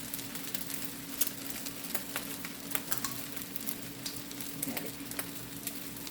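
Vegan Just Egg liquid sizzling and frying in a hot skillet, a steady close crackle with small pops throughout, no talking.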